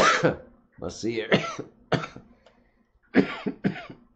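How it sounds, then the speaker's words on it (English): A man coughs several times in short harsh bursts, close and loud, with brief speech between the coughs. "Had to get a little cough in there."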